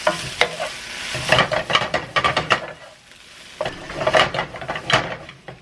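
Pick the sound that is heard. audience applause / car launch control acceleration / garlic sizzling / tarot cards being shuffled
garlic sizzling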